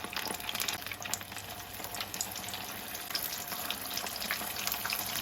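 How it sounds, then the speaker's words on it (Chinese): Eggplant rolls deep-frying in oil over low heat give a steady, dense sizzle and bubbling that runs evenly throughout, fairly quiet with no talking. "先放在这里面给它炸一下，炸至定型"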